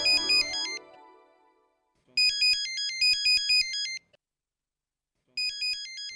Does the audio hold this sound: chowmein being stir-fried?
no